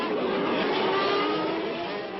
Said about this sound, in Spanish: El motor de un bólido está diseñado para producir su máxima potencia a muy alto régimen